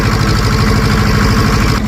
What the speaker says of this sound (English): It's not stuck real bad, it just sank down in the mud and the tires are spinning.